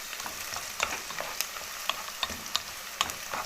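Garlic and pepper fry for a shrimp soup, a soft steady sizzle punctuated by sharp clinks and scrapes of stirring, close with no voices.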